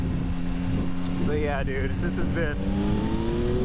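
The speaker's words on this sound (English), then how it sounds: "Weird hearing an intake and, like, not so much exhaust." A 2022 Yamaha XSR900 motorcycle engine drones at steady revs with a brief rising intake swell in the middle, heard close and loud beneath a rider talking.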